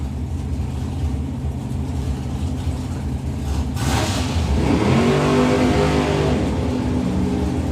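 Two drag racing roadsters launching down the strip at the FIA Euro Finals, a loud rising engine roar that swells midway and holds at full throttle.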